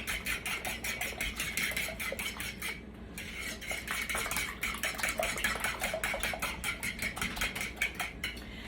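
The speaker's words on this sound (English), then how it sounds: "Beat the eggs and the milk together." Eggs and milk are beaten together in a bowl with a fork or whisk, a fast, steady rhythmic clicking and scraping that runs continuously, with one short pause partway through.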